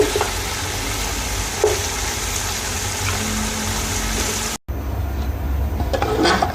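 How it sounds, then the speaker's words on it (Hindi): Goat trotters fry with onions in a pot, giving a steady, close sizzle and hiss throughout, with one brief cut partway and no voices. "ये हमने पाए डाल दिए तो इसको हम थोड़ा सा भून लेंगे।"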